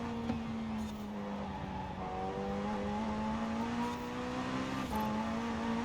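A mid-engine ATS GT in the racing game Forza Horizon 4 drones along at steady high revs through a technical sprint course, its engine note shifting slightly between gears, with no one speaking over it.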